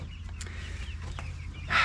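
Chickens on a backyard farm give brief clucks over a steady low background hum, with a louder, sharper squawk near the end.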